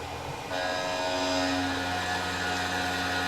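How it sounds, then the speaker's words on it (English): A Tormach PCNC 1100 CNC mill cuts aluminum with a 3-flute serrated roughing cutter at 5140 RPM and 40 inches per minute. A quieter hum swells into a loud, steady machining tone that holds without a break, with no voices. "The aluminum shredder, 3-flute roughing cutter, serrated flute, makes really, really fine chips"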